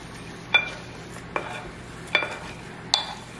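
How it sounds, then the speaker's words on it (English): A spoon stirring honey, cinnamon and olive oil in a bowl, with four distinct clinks and scrapes at roughly one-second intervals over quiet background, close and soft, with no talking. "You have to stir it really good so that cinnamon mixes with the honey and the olive oil"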